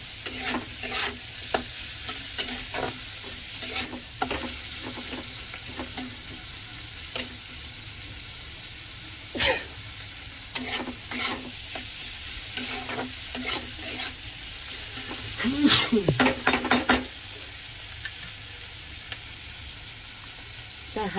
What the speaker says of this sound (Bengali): পেঁয়াজটা ভালো করে লাল করে নেব,